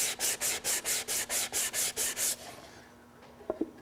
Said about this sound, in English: I'll do a slight chamfer on each of the edges using the sanding block